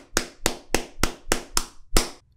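Seven sharp, evenly spaced hand claps, close and loud, the last one after a slight pause.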